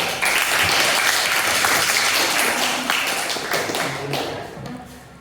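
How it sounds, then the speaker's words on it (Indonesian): A classroom of students applauds group 4, with dense, loud clapping from many hands that starts abruptly, stays steady, then gradually thins and fades out. "Yang lain silakan beri aplaus untuk kelompok 4"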